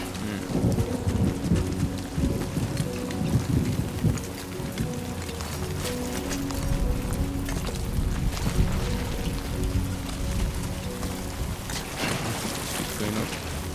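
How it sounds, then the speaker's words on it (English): Steady heavy rain pours in Death Stranding 2 on PS5 Pro, a dense hiss of drops hitting surfaces with low thunder rumbling beneath, continuous and close throughout. "Great. Rain. Gotta move."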